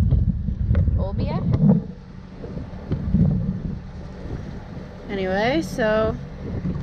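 Wind buffets the microphone aboard a sailboat heading toward Olbia, Sardinia: steady low rumble and gusts throughout, with someone talking over it.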